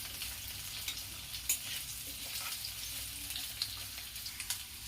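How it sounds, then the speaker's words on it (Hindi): Potatoes frying in a pan for an eggplant and potato curry, a steady close sizzle with light stirring scrapes and occasional small pops, no voices. "आलू को लगभग 2-3 मिनट में भून लूंगी।"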